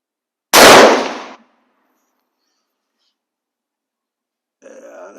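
A single loud rifle shot from a CZ 527 Mini Mauser cracks near the start, then silence, followed by a brief burst of talk at the end.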